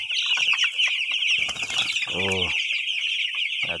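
Ten-day-old chicks cheep constantly in shrill, overlapping peeps, close and loud, with a brief deeper cluck in the middle and faint rustling underneath.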